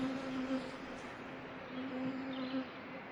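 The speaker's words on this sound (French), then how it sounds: "elle prêta l'oreille au bourdonnement des abeilles," Honeybees buzz around an apiary in a garden, a steady, even drone that holds at a moderate level for a few seconds with no other sounds standing out.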